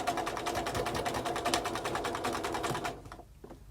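Sewing machine stitching a table runner straight over pins, a fast, steady mechanical needle rattle in quick regular beats, up close, then slowing and stopping near the end.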